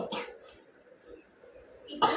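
A child gives a few short, breathy coughs close by, faint and spaced out, with a louder burst at the end.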